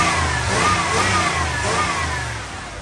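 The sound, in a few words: crate motor idling and revving in car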